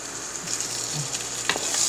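Food browning and sizzling in a pan for baked ziti, a steady close crackle with a brief stirring scrape.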